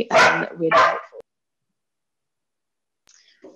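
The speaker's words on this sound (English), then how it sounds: "Sorry, excuse my dog." A dog barks twice in quick succession, loud and close, then goes silent, with a faint voice briefly at the end during an online webinar.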